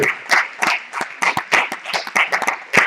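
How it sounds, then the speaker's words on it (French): Scattered hand claps from a small church congregation, uneven and fairly close, with sharp individual slaps rather than a dense roar. "On peut applaudir le Seigneur."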